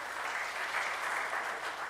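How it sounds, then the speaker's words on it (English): Crowd clapping at an outdoor political public meeting in Malabar, a steady, dense wash of applause held at even volume for about two seconds. "I find all your clapping kind of dying"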